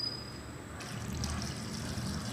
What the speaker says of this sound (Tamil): கொஞ்சமாக இதில் தண்ணி ஊற்றணும்.